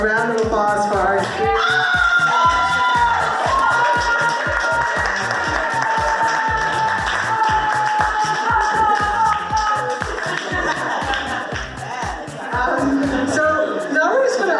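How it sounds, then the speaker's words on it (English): An audience at a literary happy hour in New Haven, Connecticut, applauds loudly and steadily, with high whoops and cheers riding over the dense clapping throughout. "give another amazing round of applause for our"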